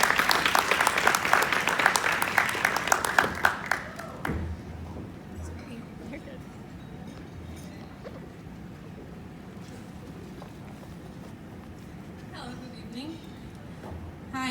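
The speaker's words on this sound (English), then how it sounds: "let's join in a round of applause and bring Doreen to the stage" Audience applause at an international student dinner welcomes a speaker to the stage, a loud dense burst for about four seconds before dropping abruptly to quiet room tone with faint murmuring.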